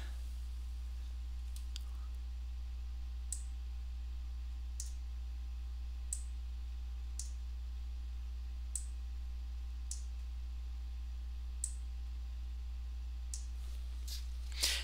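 Computer mouse button clicked repeatedly while editing a handweaving draft in an online color editor, faint sharp clicks spaced about a second apart over a low steady hum, with no talk.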